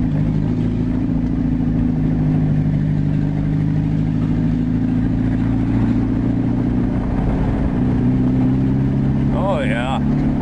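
A Volkswagen Rabbit engine runs steadily and close up, a continuous low droning hum that holds an even pitch throughout, with a brief chirp near the end.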